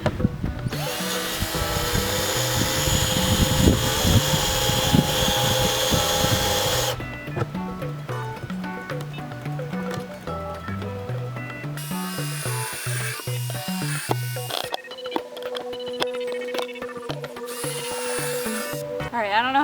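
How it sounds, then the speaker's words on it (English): A power drill boring drainage holes in a window planter outdoors, with loud, sustained whirring bursts that change pitch as the bit cuts and briefly drops out between holes. "Plant lady said I need to drill lots of holes to make the plants drain good."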